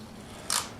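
A strip of masking tape rips off the roll in a short, sharp tear near the start of the second half, followed by a second quick rip at the very end, close and crisp in a quiet workshop.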